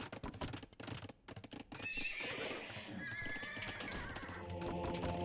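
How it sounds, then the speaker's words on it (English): A video game horse, an upgraded light cavalry mount, lets out a loud, drawn-out whinny after brisk clip-clop hoofbeats amid busy game sounds. "That looked like an upgraded horse"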